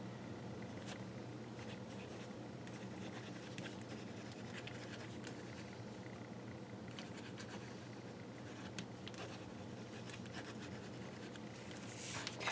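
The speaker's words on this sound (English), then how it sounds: "I'm going to keep making sure they actually still write on the paper here." A pen scratches steadily across a paper craft tag, a faint, continuous dry scribbling that runs on without talk, with a few soft taps and rubs.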